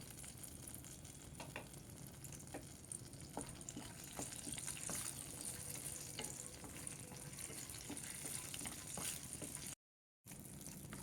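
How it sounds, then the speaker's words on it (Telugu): Peanuts fry in plenty of oil for a gongura pulihora tempering, a faint, even crackling sizzle with tiny pops running continuously, briefly cut to silence near the end. "పల్లీలు బాగా వేగి పొట్టు వదులుతోంది"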